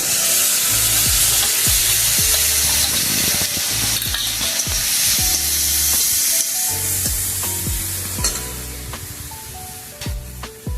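Onions sizzle and fry steadily in a pan as cumin powder goes in for a Bengali vegetarian ghonto, with clinks and stirring scrapes throughout, loud and close, no voices.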